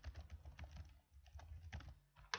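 Rapid keystrokes on a computer keyboard, quiet clicking in short uneven bursts with a brief pause midway.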